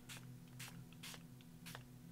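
A hand-held spray bottle spritzes liquid onto a journal page in four short, evenly spaced bursts, each a crisp hiss, over a faint steady background hum.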